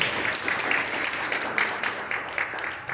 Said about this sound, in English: I would like to give a big round of applause for the American Nepal Medical Foundation